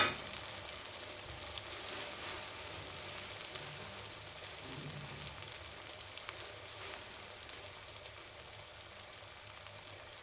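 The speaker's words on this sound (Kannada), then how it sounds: "ಇವಾಗ ನೋಡಿರಿ ಟೊಮೆಟೊ ಫ್ರೈ ಆಗೈತಿ" Tomatoes frying in a pan for a pea curry give a soft, steady sizzle that stays quiet and continuous throughout, with no talking over it.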